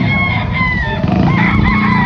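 Several gamefowl chickens cluck and crow close by, a rooster's drawn-out call rising over busy, overlapping clucking.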